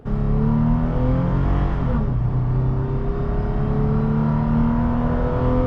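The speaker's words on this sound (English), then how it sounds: "The V6 doesn't sound bad, but you know that it's really working hard" A Toyota 4Runner V6 engine drones and climbs steadily in pitch as it accelerates through a 5-speed transmission, a continuous close-up hum with a brief shift midway.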